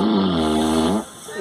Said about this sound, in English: But if you hear a flat raspberry sound like this